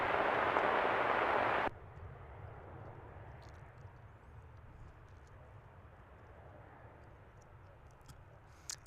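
A McDonnell Douglas MD-11 at DFW airport roars loud and broadband at first, then cuts abruptly to a quieter, steady low rumble with faint distant ticks.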